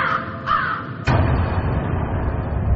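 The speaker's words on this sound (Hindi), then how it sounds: "रात के 2 बजे किसी कौवे का काव काव करना, वो भी एक होटल के कमरे के ठीक बाहर" A crow caws loudly and close by, two or three harsh calls at night outside a hotel room, followed by a dull thump and a low rumbling background in a radio horror drama.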